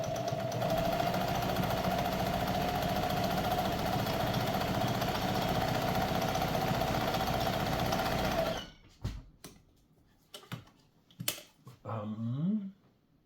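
A Pfaff 130 sewing machine runs steadily while stitching a zigzag, a loud, even mechanical whir for about eight seconds, then stops, followed by a few scattered clicks and handling knocks.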